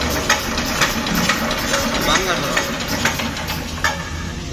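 A Honda CD175 motorcycle with a freshly fitted engine runs steadily with a loud, rough mid-pitched drone and occasional knocks, while someone talks over it.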